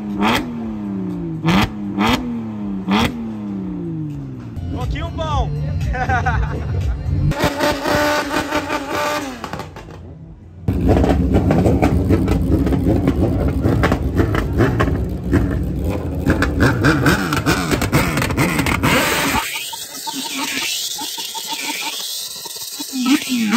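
A Fiat Uno engine revs hard and roars repeatedly during drifting, with sharp throttle blips early on, then sustained loud high-rev droning and a closing series of rising revs, close and loud.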